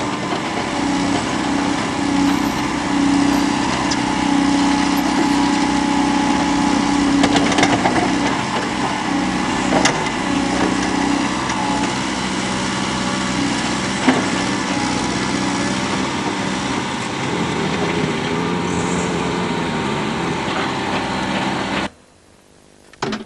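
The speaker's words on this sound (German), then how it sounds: "Am Pochwerkgelände ist man nun mit schwerem Gerät im Einsatz." Heavy machinery levels and smooths ground at a former ore mine site, a steady loud engine drone with clattering and knocks throughout, cutting out abruptly near the end.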